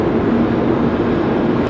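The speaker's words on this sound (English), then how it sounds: "we're waiting for our bullet train to arrive" A steady, deep rumble of a bullet train rolling into a station in Japan, a constant roar with no breaks.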